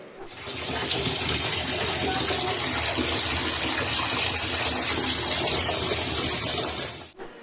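Yellow, discolored tap water gushes steadily from a faucet in a city apartment, a loud, continuous broadband rush with no pauses and no voices.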